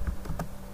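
A few quick computer keyboard keystrokes typing a short terminal command, three or four distinct taps close by, moderately quiet, with no talking.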